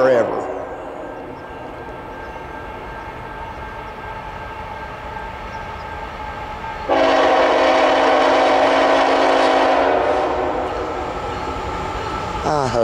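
A CSX freight train hauling coal loads behind an ET44 locomotive rolls through Crouse, its steady rumble topped by a loud, sustained horn blast of about three seconds; a voice is heard at times.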